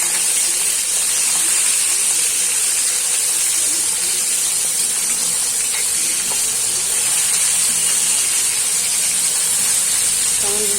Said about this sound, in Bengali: মাছটা ভাজবো।